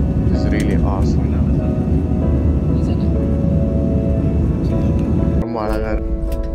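A steady, loud broadband roar of an airplane cruising, heard from inside the cabin on a flight into Delhi, constant throughout with a slight drop near the end and faint voices underneath.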